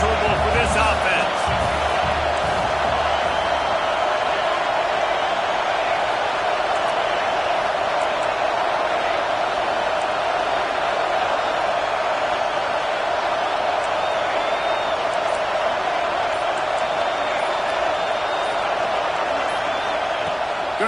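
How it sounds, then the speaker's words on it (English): Steady, dense roar of a packed stadium crowd in a college football video game, loud and continuous throughout with occasional swells, under a commentator's voice. "This crowd trying to make life miserable for this offense."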